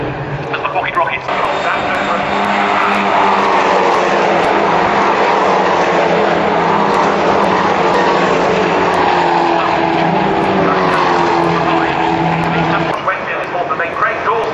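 Race cars at Brands Hatch roar away at the start of a race, a loud sustained pack of engines with rising and falling pitch throughout, under continuous commentary.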